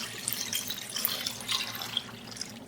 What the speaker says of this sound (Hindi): अब इसके अंदर पानी शामिल करेंगे।